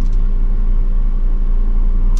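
A manual car engine rumbles steadily at close range in stop-and-go traffic, with light throttle while the clutch is slowly released: a low, constant drone, holding even without any sharp revs.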